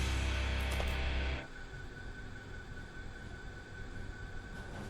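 Train in Factorio rumbling loudly at first, with a deep low roar that cuts off abruptly, leaving a quieter steady hiss and faint mechanical hum.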